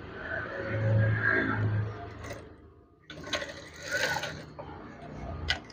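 A sewing machine stitches fabric for a curtain in two close, steady whirring runs separated by a brief pause, loud and alone without talk.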